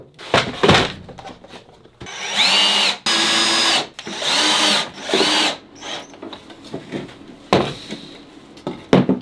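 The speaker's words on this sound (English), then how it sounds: "Now I'll start screwing everything together." A power drill driving screws into scrap wood while building street hockey sticks and goals, several loud whirring bursts of a second or so each, separated by thunks and handling knocks, close up.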